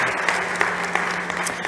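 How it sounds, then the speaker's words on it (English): A crowd claps for a startup pitch at a competition stage event, a dense, even wash of applause with a few sharper individual claps standing out, steady and fairly loud throughout the short stretch. "So please give a big applause to Christopher."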